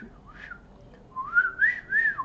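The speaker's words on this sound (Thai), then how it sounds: "จะใช้เสียงผิวปากของเราเนี่ยอย่างเงี้ย" A person whistles a few short, rising tones to call a phone with a whistle-finder app. The tones are clear and close, with a brief pause before three louder whistles.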